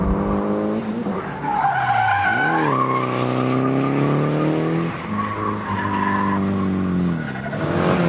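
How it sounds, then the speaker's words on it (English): A race car drifting and skidding at the Sochi Formula 1 circuit, its tires shrieking in long sustained squeals over a loud, revving engine that rises and falls through repeated slides, close and continuous, with no talking. "That is the Russian car doing some mad skids and drifts over here"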